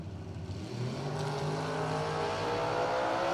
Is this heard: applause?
no